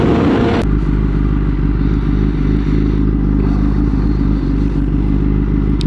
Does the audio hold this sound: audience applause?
no